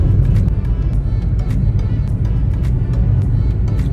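Car driving along a road in the early morning, a steady low engine and road rumble holding constant throughout at close range, with no talking.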